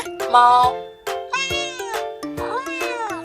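Several recorded cat meows played back by a talking pen tapped on an animal picture in a children's language book, clear, close, drawn-out mewing calls one after another, with no voices.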